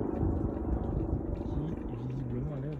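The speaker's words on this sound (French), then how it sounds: "Ah, c'est l'hélicoptère du SAMU" A steady low rotor drone of an emergency medical helicopter passing overhead, continuous and moderately distant, with a voice talking over it.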